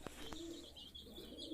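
Pigeons coo softly in a rooftop loft, low repeated calls with faint chirps and a couple of light knocks in the background.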